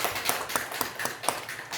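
A church congregation claps together in a steady, quick rhythm, the hand claps close and moderately loud over a constant room hum, with no talking.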